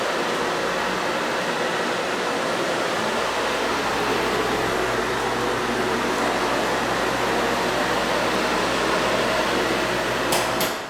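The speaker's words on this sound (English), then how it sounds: "these fans are high suction in here" High-suction fans in a vacation home run as a steady, loud broadband whoosh with a low hum beneath, unbroken throughout.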